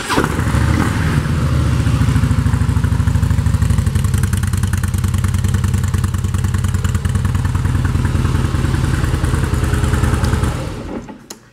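A 2017 Harley-Davidson FLS Softail Slim with a factory-looking exhaust idles steadily and loudly up close, a deep, even rumble that runs for about ten seconds and then cuts off.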